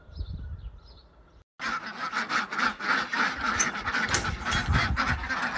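Ducks and other poultry at feeding time honking and quacking in a busy, steady chorus close by after a quiet opening moment, with no talking.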